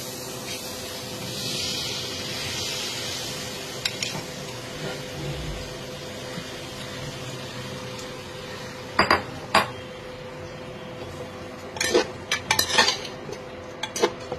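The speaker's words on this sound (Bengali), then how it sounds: "ডালিয়া আর ডাল যেটা ভিজিয়ে রেখেছিলাম সেটা অ্যাড করে দেবো" Soaked daliya and dal go into a pan while it cooks, with a faint hiss under scattered metal clinks and scrapes of utensils against the pan, which grow louder and sharper toward the end.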